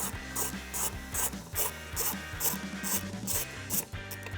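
A ratchet turns a T30 Torx bolt out of the upper grille of a 2015-2017 Ford F150. It gives a steady run of rhythmic clicking strokes, repeated about twice a second, close up with no talking.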